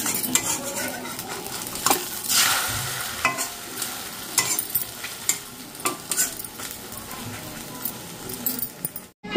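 An egg omelette sizzles in a pan, a steady close frying hiss broken by repeated metallic scraping and clinking of a spatula against the pan.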